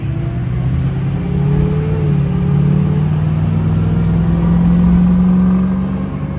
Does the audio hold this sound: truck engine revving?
yes